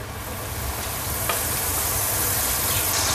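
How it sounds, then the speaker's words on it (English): Butter melting in a pan gives a steady, soft frying sizzle with a faint hiss that holds evenly throughout, close by and alone, with no talking. "I'm going to add 40 grams of butter, and I'm going to let that melt"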